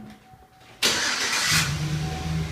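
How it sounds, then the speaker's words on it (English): A truck engine cranks and catches with a sudden loud burst, then settles into a steady idle with a low hum, close by. "we're gonna turn the truck on, let it run for a little bit"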